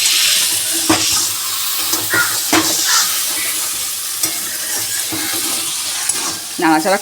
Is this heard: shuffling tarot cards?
no